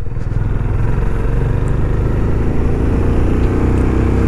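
A Benelli Imperiale 400 single-cylinder motorcycle engine runs steadily at a moderate 3,000–4,000 rpm, a loud, close, continuous low thrum with a dense pulsing rumble that holds even throughout, with no speech over it.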